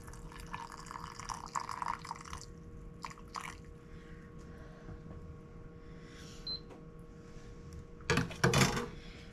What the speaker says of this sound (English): Now we're going to fill with water until we get to 1-inch headspace.